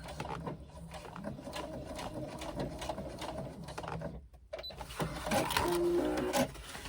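A sewing machine stitches the lining of a swim bag in a steady, faint, close run of rapid clicking, with a brief pause partway through.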